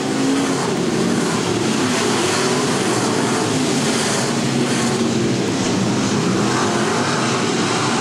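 Dirt track race cars roar through the final lap at Valley Speedway, a steady, loud wash of engine noise and crowd rumble filling the whole stretch without letup.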